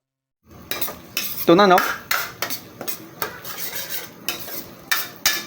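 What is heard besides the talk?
stirring fish pastil mixture in a pan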